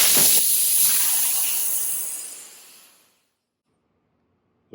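Air and moisture blast out of an air compressor tank drain valve in a loud, close, steady hiss that fades over about three seconds and then stops, leaving near silence.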